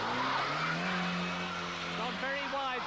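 A rally car at a 1983 parking and skills sprint event runs wide through a corner with the power on, its engine droning steadily before rising in pitch with a hint of tire squeal. Commentary is heard over it.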